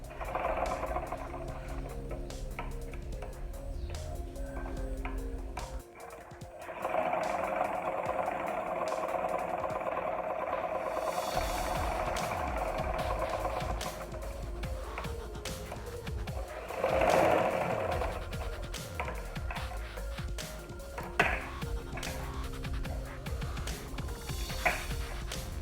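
Sewing machine stitching washed raw cotton fabric with a fine, smooth texture for pearl-trimmed baby shoes, running steadily and fairly loud for most of the stretch with a short pause, no talking.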